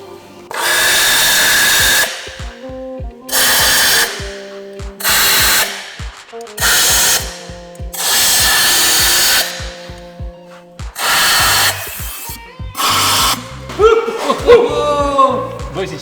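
Power tool spinning out spark plugs on a BMW 7 Series E38 engine, several loud whirring bursts about a second or two long with pauses between, followed by ratcheting and clinking, and people talking nearby.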